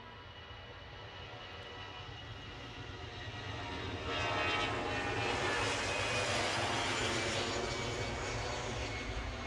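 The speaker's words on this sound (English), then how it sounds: "This EasyJet 320 off to Copenhagen." An EasyJet Airbus A320 jet takes off at Edinburgh Airport, a steady broadband roar that swells louder around the midpoint and holds, distant but continuous, with no talk over it.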